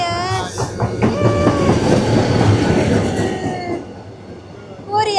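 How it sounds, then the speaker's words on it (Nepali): A train pulls in at a station in Korea, its wheels rumbling and clacking while high squeals and tonal whines rise over the noise, loud and close, then fade near the end before a brief sharp squeal returns. "ल साथीहरु, ट्रेन आयो। उताबाट अर्को ट्रेन आउँदैछ।"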